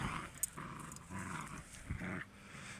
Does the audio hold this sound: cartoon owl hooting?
no